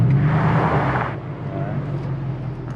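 A 2012 Ford F150 with a Coyote 5.0 V8 in two-wheel drive spins its rear wheels trying to climb a dirt hill, a loud revving engine roar with tire churn that drops off after a second into lower rumbling.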